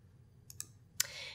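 A couple of mouse clicks while opening the Details menu option in Windows Task Manager, two light ticks followed by a sharper click, close and quiet, with no talking.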